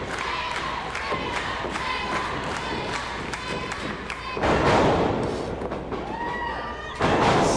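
A crowd roars and cheers continuously at a New Level Pro wrestling event, with thuds from the ring and a surge of louder cheering partway through and again near the end.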